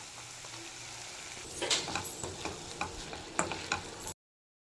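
Peas sautéing in butter in a pan, a soft frying hiss with scattered clicks and stirring scrapes that pick up midway and continue steadily to the end.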